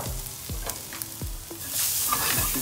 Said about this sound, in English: I'm going to fry off the garlic, the ginger, and the lemongrass first.